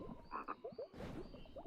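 A toad croaks in The Whispered World, a point-and-click adventure game, giving several short nearby croaks in quick succession over a soft ambient background.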